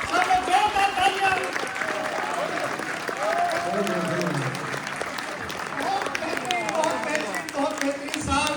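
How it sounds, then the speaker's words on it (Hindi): A festival audience at Film City, Rohtak, applauds in a sustained wash of clapping that runs through the whole stretch, with voices and chatter layered on top. "सब लोग जोरदार तालियां।"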